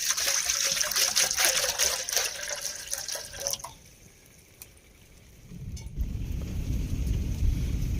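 Water from a tap trickles and splashes loudly into a pan for about three seconds, stops briefly, then resumes as a lower, fuller pour as the pan fills, for Thai tom yum shrimp.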